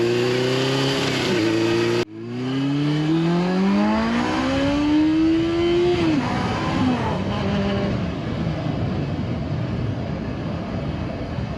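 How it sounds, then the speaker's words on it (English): Suzuki GS550E motorcycle engine revving, heard as a close, loud rising whine that climbs toward the red line after a brief cut, then drops back into a rougher idle-like drone. "an engine that is pretty much bulletproof and happily screams into its red line"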